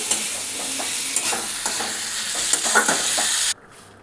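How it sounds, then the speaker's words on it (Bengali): Potatoes frying in oil in a pan for a curry, sizzling steadily while a utensil stirs them with repeated scraping strokes up close, then the sound cuts off abruptly near the end. "এইভাবে আমাদের এখন ভাজাটা চলছে"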